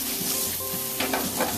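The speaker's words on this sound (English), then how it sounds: "I like to just flip it in the pan." Lake Superior whitefish fries in a pan and is tossed over by hand, giving a loud, continuous close sizzle with a couple of brief louder bursts as the fish turns.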